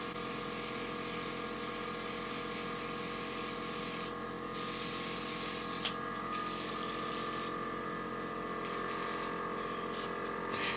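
A makeup airbrush sprays in a steady, close hiss that runs continuously, with brief shifts and small breaks in the flow but no real pauses.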